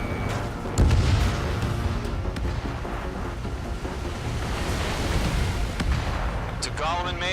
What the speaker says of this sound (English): Mage 2, missile launch.